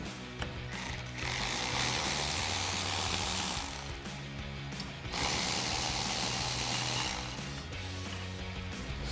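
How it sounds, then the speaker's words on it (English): A ratchet wrench loosening bolts on a 2018-2025 Jeep Wrangler JL roof rack, loud, close, rapid clicking in two long sustained runs with a short pause between, and no voices. "And then we can remove our 2 bolts here and 1 bolt here."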